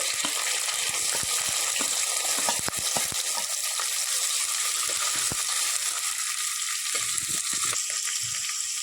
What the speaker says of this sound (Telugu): ఆయిల్ వేడయ్యాక జీలకర్ర వేసినాక ఉల్లిపాయ ముక్కలు వేసుకోవాలి.